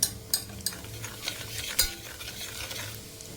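Spices frying in oil in a pan for mutton curry, a close sizzle broken by several sharp spoon-against-pan scrapes and taps, with no talking.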